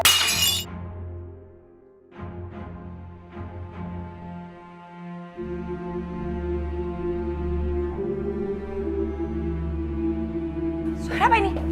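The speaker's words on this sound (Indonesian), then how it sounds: "Tadi piringnya kelempar" A plate thrown and shattering in a domestic drama scene: a sharp crash at the very start, then a tense musical score carries on beneath sporadic voices.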